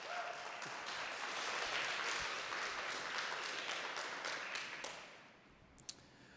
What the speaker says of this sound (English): Can I have a huge round of applause for Dario, please?